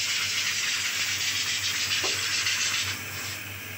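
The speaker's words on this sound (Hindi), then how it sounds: "पीछे मैंने प्रेशर कुकर रख दिया है, जब तक इसकी विसल बजेगी" Steam hisses steadily from a pressure cooker cooking chana dal with pumpkin, a continuous loud broadband rush that weakens slightly near the end.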